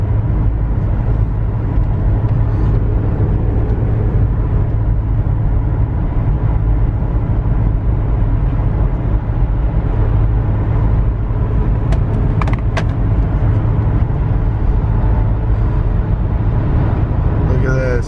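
Cabin drone of a 2009 VW Touareg TDI towing at a steady 70 mph in fifth gear, a constant low engine and road rumble that stays loud and even throughout, with no speech over it.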